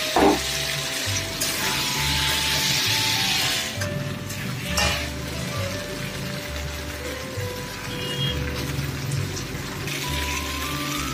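Water poured into a pan of spicy potato curry, a loud steady splashing rush that runs continuously with mild shifts in intensity, no talk.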